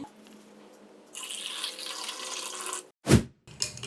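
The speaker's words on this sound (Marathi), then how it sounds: "आता घालूयात ह्याच्यामध्ये आपण पाणी" Water poured from a tap into lemon mint syrup, a steady splashing rush lasting a couple of seconds, followed by a brief louder clunk and a short burst of flowing water.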